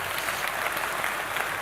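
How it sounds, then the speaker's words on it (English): Steady audience applause at a nasscom GCC 2023 technology conference in India fills the room, a dense continuous wash of clapping hands at even loudness with no talk over it. "does this presentation deserve a big round of applause?"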